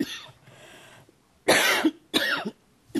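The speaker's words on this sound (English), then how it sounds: "I have a cough that's really bothering me." A conference speaker at a lectern coughs in two sharp, harsh bursts, loud and close to the microphone, after a faint throat-clearing rasp and quiet pauses.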